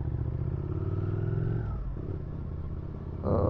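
Honda CBF 600 motorcycle riding off, a steady close engine drone that drops in pitch as it moves away, then a louder burst near the end as the throttle opens.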